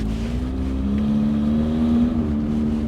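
A rough-running engine of a 1992 Saturn SL2 beater car drones loud and close, its low hum wavering unevenly for a few seconds with no talking.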